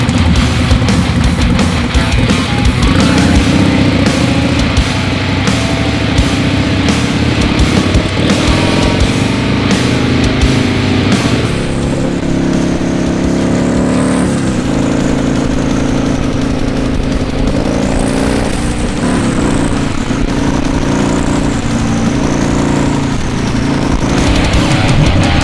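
A turbocharged Harley-Davidson Sportster fitted with a Trask turbo kit runs steadily and loud throughout, a continuous engine drone with shifting pitch as it is ridden, including a rising whine partway through.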